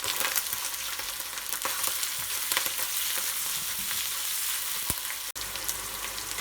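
Shiitake mushrooms frying in a pan with squid for Hakka-style red pork, a continuous close sizzle with occasional stirring clicks and one sharp tap.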